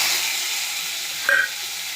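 Dried red chillies fry in a pan with a steady, even sizzle and hiss, and a short clink sounds near the end; nobody speaks.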